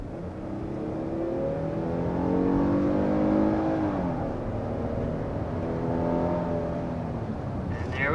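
A 2023 Kia Telluride SX Prestige X-Pro accelerates steadily up to 60 mph, its engine note climbing through several gear changes under steady cabin road noise.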